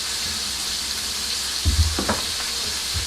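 Beef burger patties sizzle on a griddle as they are pressed flat for stuffed cheeseburgers, a steady hiss of frying with a few brief thumps and scrapes as the spatula presses down, close and continuous.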